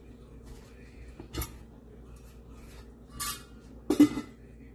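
A Saladmaster cookware pot gets its lid set down during cooking of crab in coconut milk, giving a few faint metallic clinks, the last and loudest near the end, against a quiet background.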